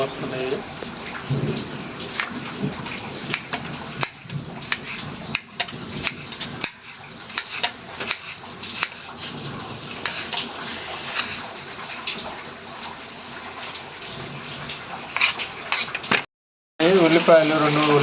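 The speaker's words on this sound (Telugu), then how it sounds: "పిడుగులు ఉరుములు వస్తున్నాయి." Steady, dense rain with thunder rumbling beneath it throughout, heard during home cooking of onion pakoda, with a person talking over the downpour and a brief silent gap near the end.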